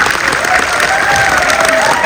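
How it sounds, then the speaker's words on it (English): Audience applause at a Sydney film premiere: dense, sustained clapping from a crowd filling the room at steady loudness throughout, with faint voices mixed in. "Give yourselves a big round of applause"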